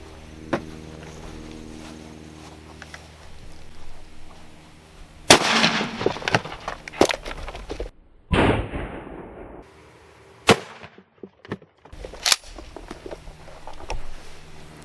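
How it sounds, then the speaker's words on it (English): A 12 gauge, 2 3/4 inch, 1 ounce lead Remington slug fired from a 20-inch Weatherby shotgun at a ballistic helmet, heard as a few sharp, loud blasts and impacts separated by quieter gaps. "We're going to try 12 gauge slug, just 1 ounce lead Remington slugger, 2 3/4 inch out of a 20-inch Weatherby shotgun."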